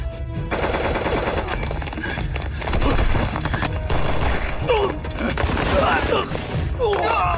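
Gunfire in a gangster shootout between guards and a gang outside a company compound, rapid bursts of shots and impacts continuing throughout under a loud, dense mix of action sounds.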